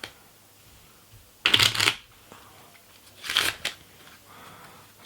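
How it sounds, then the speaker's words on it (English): Two quick bursts of cards being shuffled, a riffle of crisp flutter followed by a second shorter shuffle, close and clear with quiet between. "Some shuffles."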